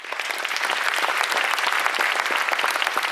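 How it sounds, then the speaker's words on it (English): An audience gives sustained applause in honour of a man's 60th birthday, a steady, fairly loud wash of many hands clapping without pause. "If I could get some applause for Kevin."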